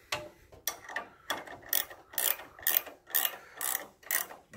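A ratchet tightens down a locking hitch pin on a trailer hitch, producing a quiet, close series of about ten crisp clicking bursts in an uneven stroke rhythm, with no talking.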